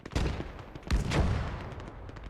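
Howitzer artillery and gunfire on a Gates of Hell Eastern Front battlefield: several heavy booming blasts, one big one roughly midway, over a rumbling background of distant shots.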